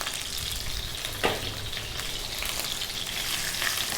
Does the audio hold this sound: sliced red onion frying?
yes